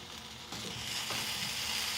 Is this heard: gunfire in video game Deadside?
no